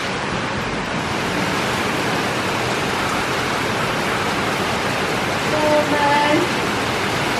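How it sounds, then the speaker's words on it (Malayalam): Heavy rain pours steadily in a dense, even wash that fills the whole stretch, with a brief faint voice-like tone near the end. "It's heavy raining here."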